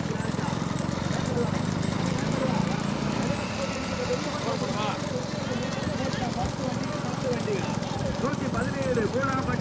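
Racing bulls at a village bull race in Poolampatti pound past in a continuous rush of hoof clatter, with crowd commotion and voices throughout.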